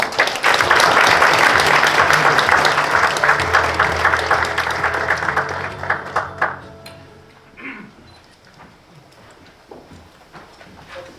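An audience at a peace and security forum in Pyeongtaek applauds loudly and steadily, then the clapping thins out and fades to scattered claps and quiet room noise.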